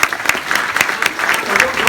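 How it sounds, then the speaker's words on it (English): Dense clapping from a keynote speech audience fills the space, steady and energetic throughout, with a voice faintly audible beneath it. "let's give them a round of applause."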